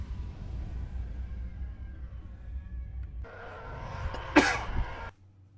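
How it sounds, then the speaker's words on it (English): A single sneeze from a person during a Star Wars Sith Empire strategy game session, a sharp loud burst near the end over a steady low background hum. "I have to sneeze."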